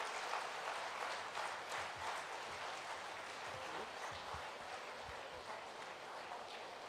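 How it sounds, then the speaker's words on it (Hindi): Applause at a Congress party national conference in Udaipur, steady dense clapping from a large crowd heard at a distance, fairly faint and continuous. "सबसे अनुरोध है जोरदार तालियां बजा करके"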